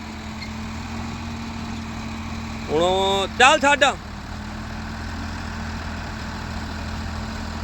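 A Swaraj tractor idles steadily at a tractor tug-of-war contest, a low, even engine drone running throughout, with a short burst of nearby talking partway through.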